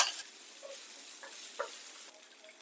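Peanuts and chopped green chillies roast in a pan for chutney, giving a soft, steady sizzle with occasional light scraping from stirring.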